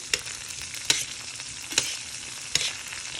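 Asparagus seasoned with salt and pepper, frying in a pan with a steady sizzle and four evenly spaced clicks of a utensil stirring against it, near and with no talk.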